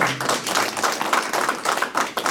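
Conference attendees at a Northeast Asia peace gathering give warm, sustained applause after a speaker's short presentation, many hands clapping loudly and continuously with no voices over it.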